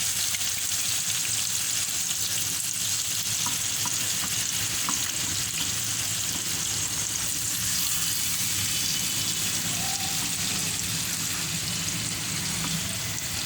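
Fish pieces frying in hot oil for a curry, a loud continuous crackling sizzle filling the whole stretch without pause, no voices.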